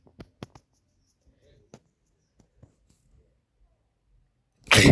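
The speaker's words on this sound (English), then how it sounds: "Yeah, there's another sneeze coming up." A single loud human sneeze bursts out abruptly at the very end, after several seconds of near silence broken only by scattered faint clicks and taps.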